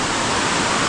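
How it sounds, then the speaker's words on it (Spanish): A small waterfall cascades over rocks beside a river, making a brief, dense and steady rushing wash of water with no voices. "cascada que se forma y este cuerpo rocoso espectacular"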